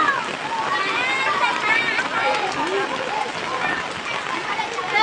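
Heavy rain pours in a steady rushing hiss, with voices talking beneath the downpour.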